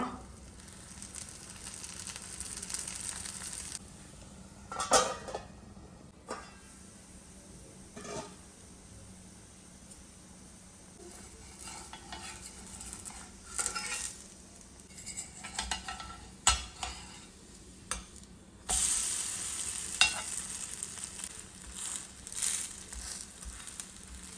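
A spicy drumstick-leaf dosa fries on a hot pan as oil is added around its edge, giving a steady close sizzle broken by sharp clinks and scrapes of a spatula.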